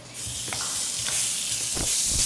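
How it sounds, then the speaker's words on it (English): Half a pound of Italian sausage frying in a pan gives a steady, close sizzling hiss that runs the whole time, with a few soft scrapes of stirring. "I'm going to get our sausage going. So I have a 1/2 pound of Italian sausage."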